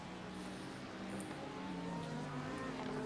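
BMW M4 race car engine droning steadily at close range, its pitch climbing gradually as it accelerates, with a continuous mechanical hum and no voices.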